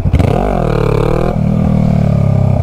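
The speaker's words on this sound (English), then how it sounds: "I let it finish revving up before I let the clutch out" A Honda Rebel 500 motorcycle engine revs up loudly, pitch climbing and settling, then drops to a steady lower idle rumble with some mechanical clatter.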